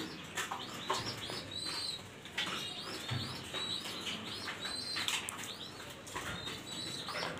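Pigeons in a loft in Mirpur, Dhaka, coo and call while wings flap repeatedly in short bursts, a busy, close flock with no talking.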